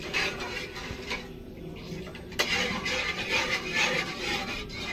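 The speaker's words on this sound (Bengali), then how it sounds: "এবার গ্যাসের ফ্লেম মিডিয়াম টু লোয়ে রেখে অনবরত এইভাবে নাড়তে হবে।" Continuous stirring of thickening mango jelly in a pot over a medium-low gas flame, with steady scraping and light metallic clinks of a spoon against the pan, close and moderately loud, without pause.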